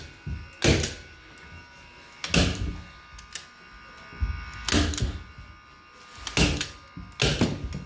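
A staple gun fires staples to fix canvas onto a wooden stretcher frame, five or six sharp close thunks at uneven intervals with quiet handling noise between.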